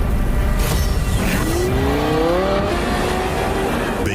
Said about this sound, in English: Based on the progressive roar of the engine.